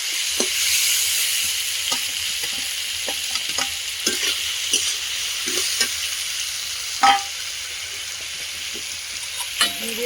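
Onion paste fries with meat, bay leaves, ginger-garlic paste and whole garlic in a pan, a steady sizzle under repeated scraping and knocking stirring strokes, close and fairly loud, no speech.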